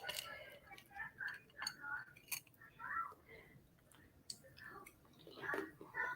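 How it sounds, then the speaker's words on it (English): Crunchy food is chewed close to the microphone, with irregular crisp crunches and soft mouth sounds at a quiet level. Faint whispered speech runs under the chewing. "We gotta hear that crunch."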